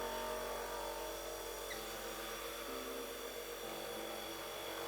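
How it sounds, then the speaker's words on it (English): An oscillating floor scrubbing machine runs steadily with a constant, faint high-pitched whirring hum and no noticeable change in pitch or level. "I've always liked these oscillating machines."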